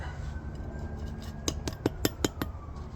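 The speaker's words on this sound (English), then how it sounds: "I'm going to dig some more." Metal tool strikes in backyard dirt while digging for antique bottles, with a quick run of five or six sharp scrapes and clinks in close succession, close and fairly loud over a low background rumble.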